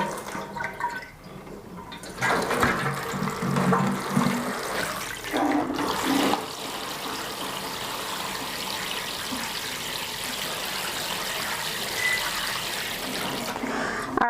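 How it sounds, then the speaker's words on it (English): Water poured and splashing into clear plastic containers for soaking flower plants, a bubbling, gurgling pour with a couple of louder sloshing bursts early on, then a steadier trickling stream that continues to the end. "We're going to pour some water in here, and so we can start soaking our plants while we work on the container."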